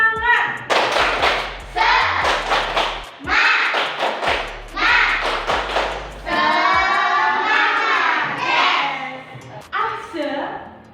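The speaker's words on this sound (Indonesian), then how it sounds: "Tepuk semangat!" A "tepuk semangat" clapping chant from a Quran recitation lesson, with a lively sung or chanted voice over rhythmic claps and thumps in bursts, close and fairly loud.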